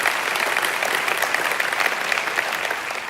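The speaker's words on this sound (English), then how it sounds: "You can cheer for that." A large audience applauding and cheering, dense steady clapping at a strong, even level throughout.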